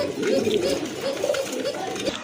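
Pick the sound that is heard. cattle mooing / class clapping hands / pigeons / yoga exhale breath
pigeons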